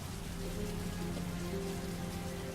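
A steady downpour of heavy rain drums on surfaces, loud and continuous with no break and no talking.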